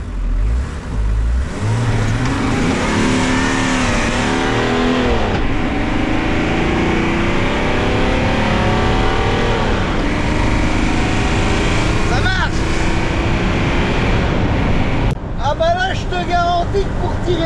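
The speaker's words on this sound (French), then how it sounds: "Ah, le turbo, t'entends le turbo?" A turbocharged Ford Mustang engine revs and pulls hard, a loud sustained roar with rising and falling pitch sweeps and turbo whine, someone talking throughout.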